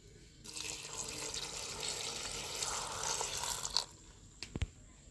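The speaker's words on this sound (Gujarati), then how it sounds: "તો એમાં જો આપણે એક કળશો નાખશું પાણી" Water pours steadily from a kalash-type vessel into a pressure cooker holding chopped vegetables, a continuous splashing rush for several seconds that stops abruptly, followed by a couple of sharp metallic clinks.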